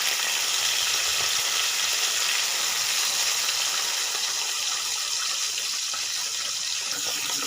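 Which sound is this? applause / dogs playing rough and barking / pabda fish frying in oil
pabda fish frying in oil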